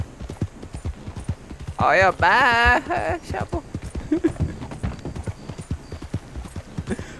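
Steady clip-clop of horse hooves in a roleplay video game, a brisk rhythm running through the whole stretch while people talk over it.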